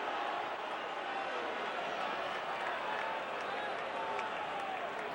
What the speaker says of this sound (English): Home crowd begging a bit on a pitch that was clearly off the plate.